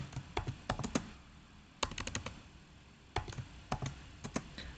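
A chmod command is typed on a computer keyboard: bursts of quick, crisp key clicks in short clusters with brief pauses, close and fairly quiet, with no talk.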